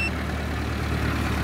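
A vehicle engine idles in freezing weather around minus thirty degrees, a steady unbroken low rumble with no variation throughout.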